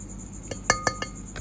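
A large glass plate clinks several times against cutlery or another dish, a few bright sharp taps in quick succession followed by one more, close by and alone over a quiet room.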